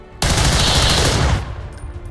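In XCOM 2 a soldier fires a gun in one loud, close, sustained burst of rapid shots lasting just over a second. A quieter tail follows as the burst ends.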